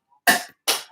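Two short, sharp coughs from a woman, close and clear, separated by a brief pause, with silence around them.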